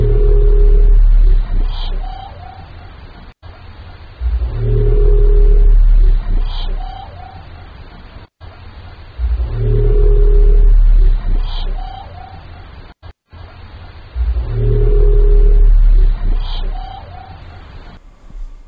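The Western Pacific Biotwang, an underwater sound recorded in the Mariana Trench, repeats four times, each a deep low moan rising to a twanging, metallic-sounding call, loud against a steady rumbling background.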